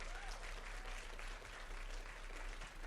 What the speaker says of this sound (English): give a big round of applause to the doctors, the volunteers, and the team who put this together